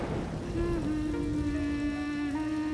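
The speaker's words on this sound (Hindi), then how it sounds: "सिवाय इन बारिश की बूंदों में" Steady rain falls on a surface as a continuous dense patter with a low rumble underneath, joined by a sustained tonal hum, in a Hindi TV drama scene.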